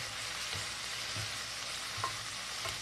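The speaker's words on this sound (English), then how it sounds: "It's boiling now, so we'll put the anchovies and nuts." Anchovies and nuts fry in a pan with a soft, constant sizzle, broken by a few faint clicks from stirring.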